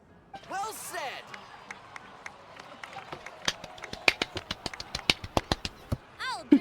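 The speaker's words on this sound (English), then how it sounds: "please give another round of applause for them" Crowd clapping in Genshin Impact builds into a run of sharp, rapid claps, starting amid chatter and a chirpy synthetic sound, with a voice heard near the end.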